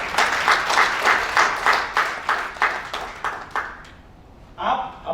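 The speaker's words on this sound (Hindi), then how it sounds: "जोरदार तालियां उन दोनों लोगों के लिए।" An audience at a business store meet in Indore, India claps in enthusiastic bursts for two people, the rhythmic applause fading out near the end before a short voice comes in.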